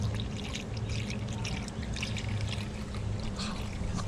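Coolant pours and trickles steadily into a Honda Civic throughout, a continuous splashing stream close by with a low hum underneath.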